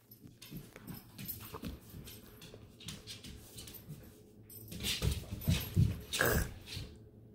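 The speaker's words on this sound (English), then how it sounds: "So my dog's chasing his tail." A golden retriever spins after its own tail indoors, paws scrabbling and thumping rapidly on the floor with occasional small growls and whimpers, growing busier toward the end.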